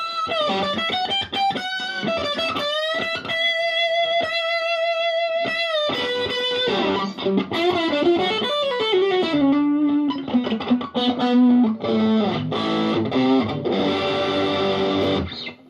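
An electric guitar played on the bridge pickup through a BOSS DS-1 distortion pedal gives sustained, gritty distorted chords and single notes, then busier riffing and bends, loud and continuous with no talk.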